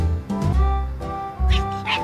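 A cartoon cat stuck up a tree gives a few short, loud meows and whines in quick succession, close and high-pitched.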